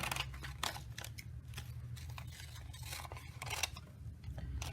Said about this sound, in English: you're going to cut several pieces of freezer paper